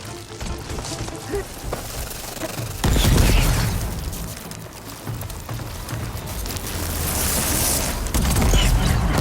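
A dense barrage of gunfire in the video game Horizon Forbidden West, heavy booming bursts over a continuous rough roar that swells louder partway through, with faint voices mixed in.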